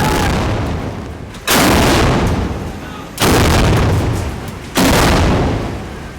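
Air defense artillery firing live rounds at a helicopter target during a military exercise: three loud, broadband booming shots roughly a second and a half apart, each decaying into a long rumbling tail, no talk.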